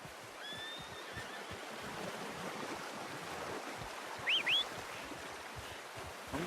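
Two short whinnies from a horse in the video game Red Dead Redemption 2, faint and brief against a steady outdoor wind and water ambience.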